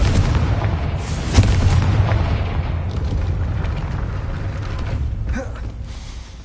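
Confringo blasting spell in the Hogwarts Legacy video game, heard as a sharp impact with a rumbling, creaking blast and debris that fades into low ambient game noise.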